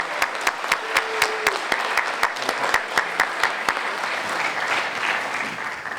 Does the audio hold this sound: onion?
no